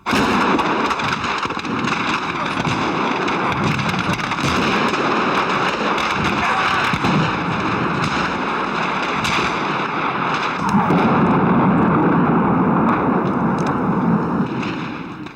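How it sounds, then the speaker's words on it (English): Sustained loud rumbling and blasts of heavy combat in the Chechen capital Grozny during the 1994 battle, with explosions, artillery fire and a nearby rocket impact, dense and continuous, swelling louder toward the end. "A rocket landed just behind us."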